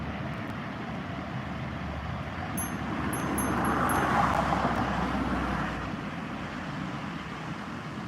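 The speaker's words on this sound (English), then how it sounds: "There's one car making all the noise." A single car passes through a road tunnel in Japan, a steady broadband roar that swells as it draws near around the middle and then eases off, with no voices.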